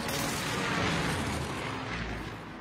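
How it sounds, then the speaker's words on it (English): Airstrike explosions rumble through a video game battle in a dense, continuous roar of overlapping booms and blasts, loud and close, holding steady before easing slightly at the end. "Airstrike."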